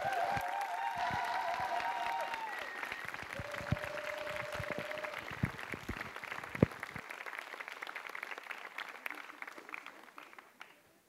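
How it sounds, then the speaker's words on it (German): A stage audience claps to welcome a speaker. The applause is scattered and moderately loud at first, with a few sustained tones over it, then thins into sparse claps that trail away over roughly ten seconds. "Begrüßt bitte Johanna Lynn Liebmann mit einem 10-Punkte-Applaus"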